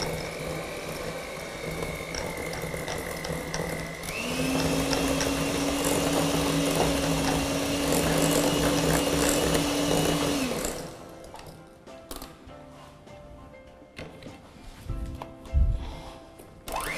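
An electric mixer whirs steadily as it blends cream cheese and sugar for carrot cake batter, its motor pitch rising partway through before it shuts off, followed by quieter clinks and bowl scraping.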